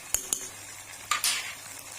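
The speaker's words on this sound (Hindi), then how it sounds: "ऐसे इसको मिक्स कर लेंगे।" Eggplant and potato curry is stirred in a pan with a spoon, giving a few sharp metallic scrapes and clicks over a low sizzle, close up and without speech.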